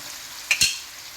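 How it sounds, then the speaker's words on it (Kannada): Fish pieces fry in a pan for fish biryani, heard as two quick, sharp sizzling bursts close together against a quiet background. "ಇದನ್ನು ನಾನು 2 ಸರಿ ಫ್ರೈ ಮಾಡ್ತೇನೆ."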